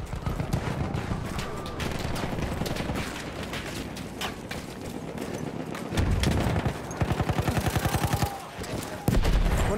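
MG08/18 machine gun firing in a World War I shooter on the Ferme de Tahure map: continuous rapid bursts of close gunfire with a steady mechanical chatter, growing louder and sharper in the closing seconds.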